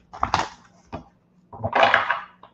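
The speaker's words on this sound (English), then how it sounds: "Ricky, I'm going to just do a couple of extra shuffles just to clear the cards" Playing cards are shuffled by hand at close range, two short bursts of riffling and crunching with a brief pause between, no talk over them.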